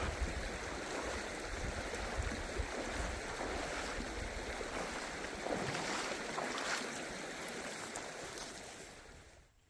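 The Wheaton River in the remote Yukon backcountry rushes in a steady, even wash of flowing water, fairly faint and continuous, fading slightly near the end.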